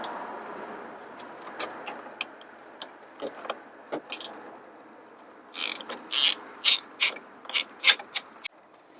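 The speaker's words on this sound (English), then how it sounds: "It now says to remove the 2 OEM screws holding this coil spring cover" T30 screws come off a BMW R1200 GS Adventure motorcycle's coil spring cover, with faint scattered clicks and then a close run of quick, distinct ratchet bursts near the end.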